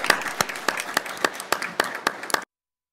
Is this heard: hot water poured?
no